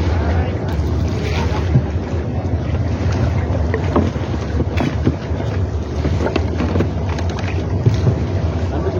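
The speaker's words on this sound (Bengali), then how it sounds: "নৌকায় যদি এখন যাইবেন আপনারা তখন এভাবে করে ঢেউয়ের মধ্যে পড়তে দেবে" Boat riding through choppy waves during a rainy winter camping trip, a constant loud rush of water and wind buffeting close by, with splashes and knocks throughout.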